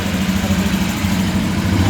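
A motorcycle engine runs steadily in a vocational school workshop during a charging-system test, a loud, close, even drone with no talk.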